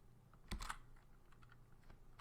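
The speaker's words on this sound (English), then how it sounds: "So now we are going to type cp for copy." Linux command typed on a computer keyboard at a command line, with a couple of louder keystrokes followed by softer scattered clicks and a sharp final key press, close and quiet, with no talk.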